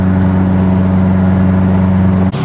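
A 2009 Subaru WRX with a JDM EJ205 engine swap drives along the road, its steady engine drone and low hum continuous and close until it cuts off abruptly near the end.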